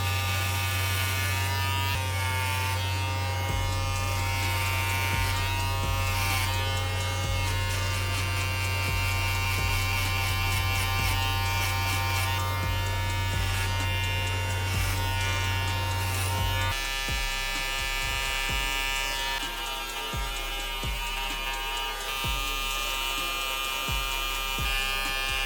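A Wahl Vapor hair clipper with a 32-tooth blade runs loud and close, giving a steady electric buzz for the whole stretch, its tone shifting partway through as the load changes; no voices.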